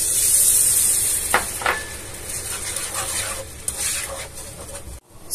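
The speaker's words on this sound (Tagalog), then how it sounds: "itunaw natin yung butter. Ang butter, sunod natin yung brown sugar." Butter and brown sugar melt in a pan, giving a continuous soft sizzle with a few scraping stirs of a utensil against the pan, close up and without talk.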